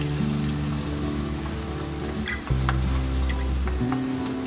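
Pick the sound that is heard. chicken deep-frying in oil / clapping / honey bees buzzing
chicken deep-frying in oil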